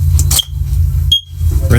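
A First Alert OneLink smoke alarm bridge unit gives two short, high, thin beeps about a second apart, close by, with a voice briefly heard around them.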